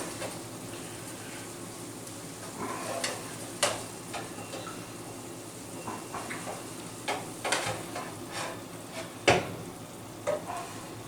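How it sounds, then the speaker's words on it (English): A spoon scoops cooked meat out of a pan on a stove, making irregular clinks and scrapes against the metal over a quiet background sizzle. "So we're just going to spoon the meat out"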